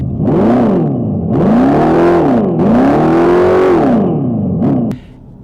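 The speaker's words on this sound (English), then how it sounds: "And the extra power is accompanied by the soundtrack inside and outside. It is really quite loud." A 2024/2025 Dodge Charger accelerating hard with its synthesized engine soundtrack, loud and close, surging through rising and falling pitch sweeps across several gear changes before cutting off abruptly.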